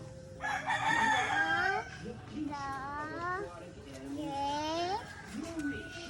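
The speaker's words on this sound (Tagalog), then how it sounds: "so many chicken here, no?" A rooster crows loudly and repeatedly among clucking chickens at a family's home in the countryside, the long drawn-out calls nearby, while a child and adults chatter over them.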